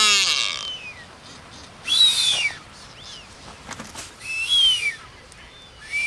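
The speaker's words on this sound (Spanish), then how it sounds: "estos piqueros de patas azules emiten sus silbidos característicos al empezar el celo" Blue-footed boobies on the Ecuadorian coast give descending whistled calls at the start of the breeding season: a loud one at the opening, then two more clear whistles about two seconds apart, standing out against a soft background hiss.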